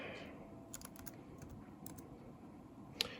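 Keys clatter on an HP Stream 14 laptop keyboard in a short, quiet run of close taps with brief pauses, ending in one sharper click.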